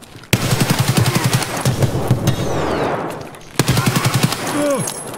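Gunfire in the video game Escape From Tarkov: two loud close bursts of rapid automatic fire, each starting with a sharp crack, with a thinner stretch between them and a brief ricochet-like whine near the end.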